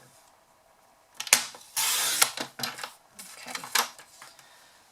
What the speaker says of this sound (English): so I can put it through my die cut machine